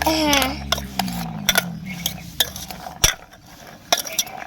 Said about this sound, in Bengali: এবার এটাকে ঝালমুড়ির মতো করে ভালোভাবে মাখিয়ে নেব